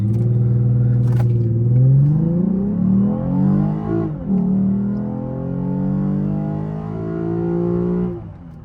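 A 2017 Lexus IS 350 with an RR Racing engine tune revs hard under acceleration, its loud engine note climbing steadily, dipping at a shift midway, then rising again before easing off.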